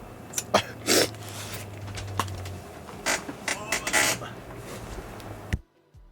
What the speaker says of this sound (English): Hold on one second. I gotta sneeze.